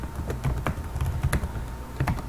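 A command is typed on a computer keyboard, a quick run of close, crisp key clicks at an uneven rhythm with no talking.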